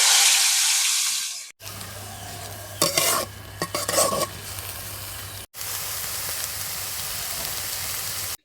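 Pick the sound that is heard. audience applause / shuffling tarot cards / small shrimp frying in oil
small shrimp frying in oil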